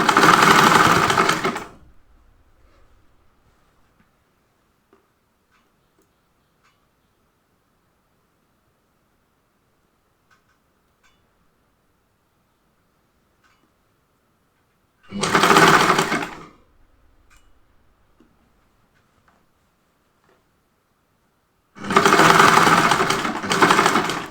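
A sewing machine stitches a kurta top in three loud bursts of rapid mechanical whirring, the first lasting about two seconds. Long quiet gaps separate the bursts.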